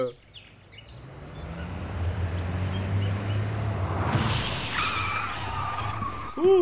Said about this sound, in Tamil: அந்த வண்டி கண்ட்ரோல் இழந்துருச்சு.